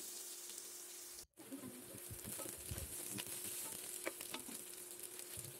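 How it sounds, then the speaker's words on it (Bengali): Chili and chopped onion fry in mustard oil for vegetable khichuri, giving a quiet steady sizzle with a brief dropout early on and scattered soft stirring clicks. "এরপর মরিচ আর পেঁয়াজ কুচি ভেজে নেওয়া হবে"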